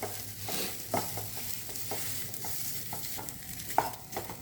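Precooked egg devil filling being mixed in a pan, a soft sizzle under repeated scraping stirs and a few sharp clinks of a spoon against the metal, no voices.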